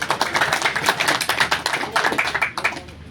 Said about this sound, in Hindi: तो भाई के लिए तालियां